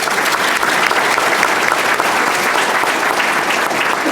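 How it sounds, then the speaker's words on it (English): Steady applause from a seated audience at a media conference panel, a dense even patter of many hands clapping close by, continuing without a break. "Mr. Hunter, give him a round of applause."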